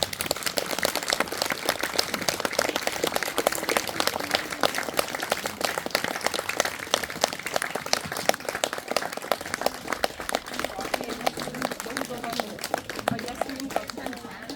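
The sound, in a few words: audience applause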